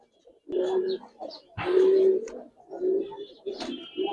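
Giribaz and Army pigeons give several low, throaty coos in short bursts nearby, separated by brief pauses, with a sharp higher note near the end.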